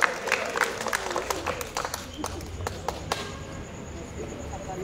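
Applause for a band's 50th anniversary celebration at an indoor venue: steady clapping with scattered louder claps, near and fairly loud, over crowd murmur, fading slightly toward the end.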